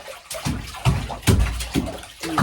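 Water splashing and sloshing in bursts during a rainy day, with several uneven splashes close by and no voices.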